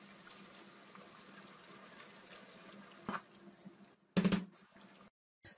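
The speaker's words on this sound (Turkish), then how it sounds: "İçine 2 su bardağı kaynar su ekliyorum." Two glasses of boiling water going into a pot of simmering sauce for a Turkish bostan kebab make a faint, low background, then a brief splashy pour burst past the midpoint before it cuts off.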